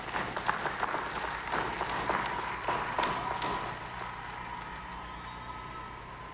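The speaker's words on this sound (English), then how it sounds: "Let's give another round of applause to all of our Long Service Medal awardees." Applause for Long Service Medal awardees at a national day parade in Dominica, a broad outdoor crowd clapping with many sharp claps at first, then thinning and fading toward the end.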